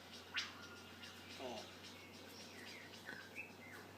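Birds chirping on a televised nature programme, a few brief scattered calls and tweets, faint and thin over steady room hum and background noise.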